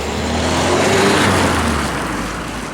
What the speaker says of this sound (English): So going for a drive in the Peugeot 308 Active.